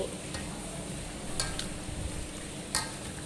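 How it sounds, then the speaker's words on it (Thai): Utensils stir a Thai spicy salad of meatballs and moo yor pork sausage, mixing it in a bowl with a steady low scraping and rustling and a couple of brief brighter clinks, close and fairly quiet. "เราต้องคนให้มันเข้ากันนะคะที่นี้"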